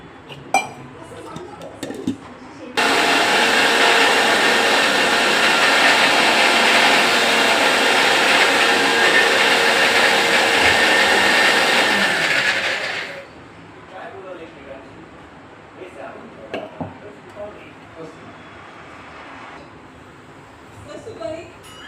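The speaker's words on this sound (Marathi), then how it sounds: "सगळं आपण मिक्सरवरती काढून घेऊ" A mixer grinder runs loud and steady for about ten seconds, grinding chutney of curry leaves, cumin, salt and a little water, then cuts off, with soft kitchen clinks before and after.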